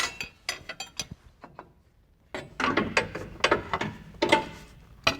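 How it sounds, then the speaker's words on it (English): U-bolts coming off the axle and leaf spring of a Ford Super Duty truck during an 8-inch lift kit install, with close, irregular metallic ratcheting and clanking in short bursts and a brief pause partway through. "Remove the U-bolts that hold the axle to the spring."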